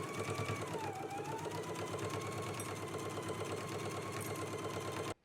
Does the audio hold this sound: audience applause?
no